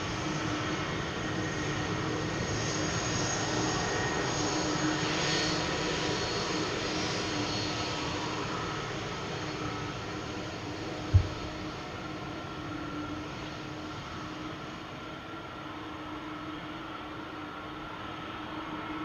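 A Delta airliner departs from Amsterdam Schiphol, a steady engine roar with a droning hum that slowly fades, broken by one brief thump midway, with no talk.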